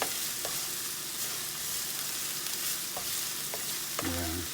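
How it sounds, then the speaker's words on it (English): Celery sautéing in a pan, a steady close sizzle and hiss throughout, with a few light stirring taps and a brief tonal squeak near the end. "I'm just going to saute that up."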